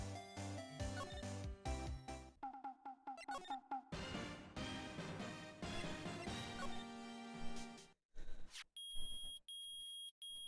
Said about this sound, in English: The metal detector's found something.